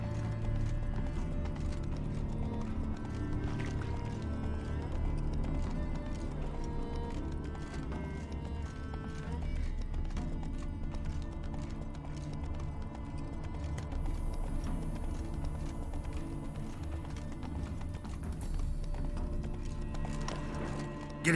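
Horse hooves clip-clopping at a steady run with occasional neighs in The Witcher 3, loud and continuous beneath a dense layer of game music, with no voices.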